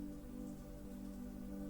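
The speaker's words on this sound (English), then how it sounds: "Yep, it's raining." Rain falls in a steady, even wash with no breaks, heard faintly and alone with no voices over it.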